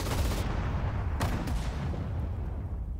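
Gunfire in the strategy game Sudden Strike 4 comes as a dense, continuous burst of booming shots and rumbling blasts, loud throughout.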